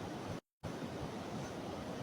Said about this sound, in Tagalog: Malakas ang alon eh, no?